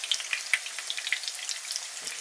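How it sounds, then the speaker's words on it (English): Close, steady sizzling and crackling of oil deep frying breaded chicken cutlets in a pan, with tiny pops scattered throughout. "cooking, like deep frying kind of sound in the pan there."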